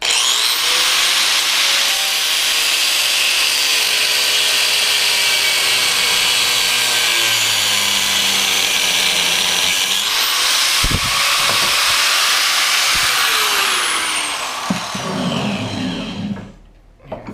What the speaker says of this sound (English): we have an actual cutting wheel right here on it, and we'll see what happens